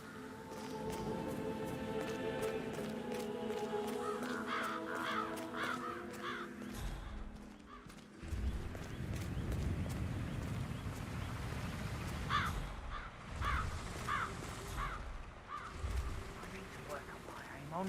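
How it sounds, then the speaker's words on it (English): Crows caw from a tree in the video game Hitman 3, with repeated harsh calls in short bursts over sustained music and a voice. "I'll never get rid of those stupid birds."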